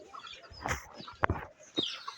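A few soft, scattered clucks from native desi chickens nearby, short and irregular over a quiet background.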